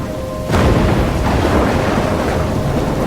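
A heavy thunderstorm with steady rain from the video game Life is Strange, a loud rumble of thunder breaking in after half a second and continuing over a dense wash of rainfall.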